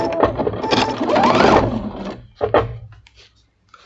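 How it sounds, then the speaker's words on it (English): A sewing machine runs for about two seconds while stitching quilt fabric, a close, steady mechanical whir that stops, then gives a short second burst and a few faint clicks. "line it up and start sewing"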